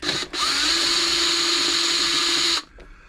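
A battery-powered drill gun backs screws out of the casing of a Toyota Oekaki RS2000 sewing machine: a brief whir, a short pause, then one steady high-pitched whine for about two seconds that stops sharply, close and loud.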